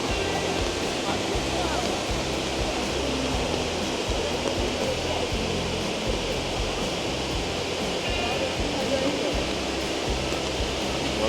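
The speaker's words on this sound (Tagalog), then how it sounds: "Waterfall." Shifen Waterfall in Taiwan roars as a dense, constant rush of falling water, loud and unbroken from start to finish.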